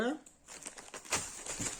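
A plastic parcel bag from a lost Ukrposhta package is opened and handled, making quick crinkling, rustling bursts close by after a short voice fragment at the start.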